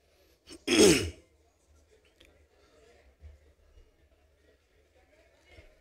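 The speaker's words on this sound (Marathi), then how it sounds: "मध्ये जर समजा खोकल्याची ढास लागली तर माफ करा।" A man with a hoarse voice at a political rally clears his throat once, loudly and close, then the room goes quiet apart from faint low background murmur.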